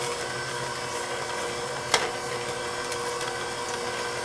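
An electric mixer runs steadily through cookie dough with dry ingredients and chocolate chips nearby, a continuous close whirring drone that holds an even level throughout, broken once by a brief knock near the middle.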